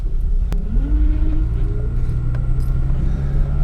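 A broken-down project car without power steering drives along, its engine giving a loud, steady low rumble as revs rise slightly and hold, with a couple of faint clicks over the drone.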